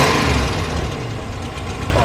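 An old engine in a restored junkyard camper rumbles loud and close as the throttle is opened, a rough sustained roar that swells near the end, with no speech.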